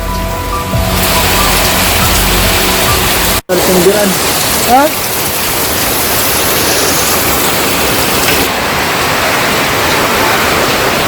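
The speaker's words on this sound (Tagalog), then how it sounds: "Malakas ang ulan eh" Heavy rain with wind pours down steadily outdoors as a dense, continuous wash of noise, broken by one brief interruption, with a short voice heard over it.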